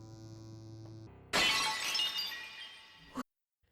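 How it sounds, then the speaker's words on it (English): A dish shatters in an anime scene, a sudden loud crash of breaking crockery with bright glassy fragments ringing out for nearly two seconds before cutting off, after a quiet tonal passage. "In this moment where Enta shatters the dish"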